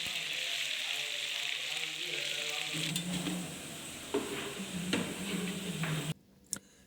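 Potato slices frying in oil left over from frying chicken give off a steady, close hiss of sizzling, joined midway by a few clicks and stirring knocks, before dropping to near quiet at the end.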